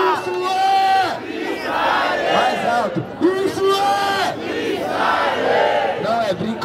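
A large crowd roars and shouts continuously at a freestyle rap battle, voices rising and surging together in a loud, sustained clamor.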